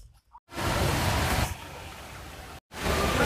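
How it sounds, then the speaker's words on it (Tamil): Steady, loud rain pours outside near a hotel stop on a van trip to Tiruchendur, a broad continuous wash that cuts out briefly before resuming. "நல்லா வெளியில் மழை பெஞ்சிட்டு இருக்கு"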